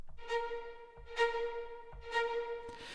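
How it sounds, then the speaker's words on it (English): Orchestral performance sample notes, each opening with a blurred grace-note-like transient before settling into a sustained tone, three soft notes repeating about every 0.8 seconds, quiet and isolated. "It's kind of like a little almost like a grace note sound."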